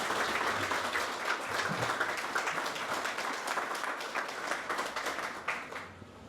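A congregation at a church service claps for Jesus. The applause is fairly soft and steady for about six seconds, then trails off at the end.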